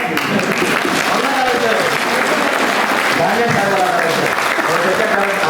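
A crowd at a municipal employees' union annual general meeting breaks into loud, sustained clapping, a dense continuous applause filling the hall, with a voice speaking over it.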